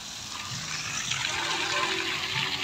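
Water flowing in a river channel at Chenab Park in Multan, Pakistan, a steady broadband rush that continues for the whole stretch, with faint voices murmuring underneath.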